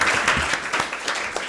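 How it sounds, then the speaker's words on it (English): Brief burst of audience applause for a panel at a neuroscience and psychology conference, a short spell of scattered clapping at moderate volume. "I would like everybody a big round of applause for our wonderful panel"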